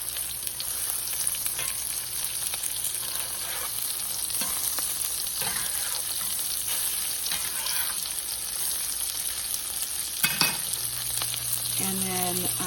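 Pecan-crusted halibut frying in a pan, a constant bright sizzle holding steady with occasional soft scrapes and a brief clatter of a utensil, close and without voices.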